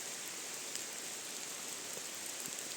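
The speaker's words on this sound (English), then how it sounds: "What a beautiful and absolutely amazing drive in this forest as it rains." Steady rain falls through a forest during a drive, a dense, even hiss of drops with occasional louder patters, continuous and fairly close throughout.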